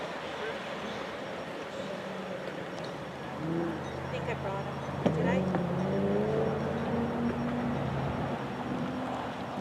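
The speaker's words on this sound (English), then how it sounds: "There goes the Lexus starting its" A Lexus pulling off the start of an autocross run, engine note rising in pitch as it accelerates at moderate distance, with people talking over it throughout.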